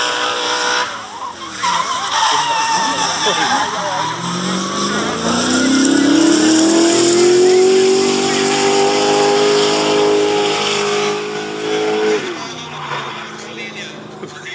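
Drift cars, Nissan S14 and S15 among them, race on a track with engines revving hard and tyres squealing in a long, loud slide, a commentator talking over it.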